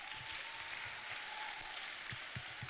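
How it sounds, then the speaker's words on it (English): Students in a classroom applaud together, a soft, steady patter of many hands that fills the short moment, somewhat distant and fairly quiet. "give a round of applause"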